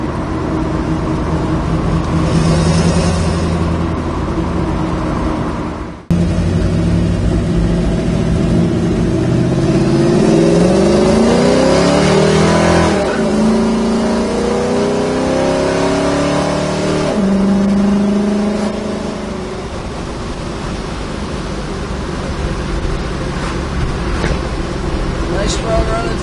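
A 1968 Chevrolet Camaro RS with a 350 V8 engine runs and revs repeatedly, loud and close, with rising and falling engine pitch and a brief cut partway through.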